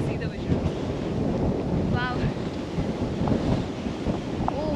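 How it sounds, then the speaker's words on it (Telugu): Steady wind blowing across a hilltop in Munnar, a continuous broadband rush with gusty low rumble against the microphone, loud and close throughout, with faint voices in the background. "నాకైతే ఈ గాలి ఇలా నడుస్తుంటే భలే అనిపిస్తుంది"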